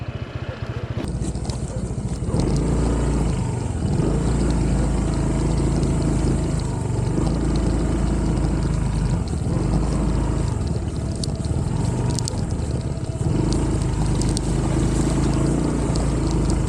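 A motorcycle ridden along a bamboo-lined dirt trail toward the waterfalls of Laiban, Tanay, Rizal, its engine a loud, steady rumbling drone that carries on without a break, with rough scraping noise mixed in.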